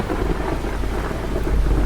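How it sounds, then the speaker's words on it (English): Deep, broad rumbling thunder rolls through a storm with rain hissing underneath, steady and loud, swelling slightly toward the end. "A bone-splitting crack of lightning chased by a thunderclap so resonant that the charged atmosphere feels as if it's tearing at the seams."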